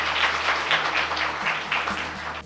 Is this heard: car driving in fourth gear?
no